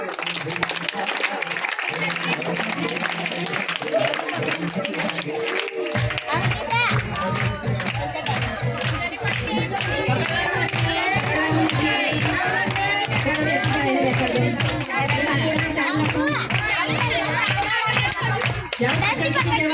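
An audience at a Brahma Kumaris and Lions Club event in Dakor claps their hands in steady rhythmic applause, loud and continuous, under a voice speaking over it and children's voices.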